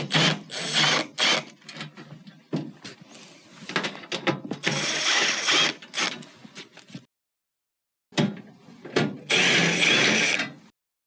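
A power driver removes 1/4-inch screws from a refrigerator access panel in several whirring bursts of varying length, close up, separated by short pauses and one full silence.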